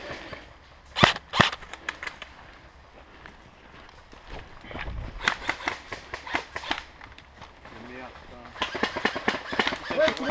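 Airsoft guns fire during an outdoor skirmish: sharp single snaps and short bursts, some close and loud, others scattered and fainter, with players talking in between.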